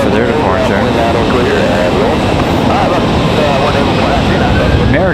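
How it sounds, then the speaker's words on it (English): An American Airlines Boeing 737 jet departs Raleigh-Durham International Airport with a loud, sustained engine roar. Overlapping voices chatter throughout, close and over the noise. "American with a almost turn and burn here, 737."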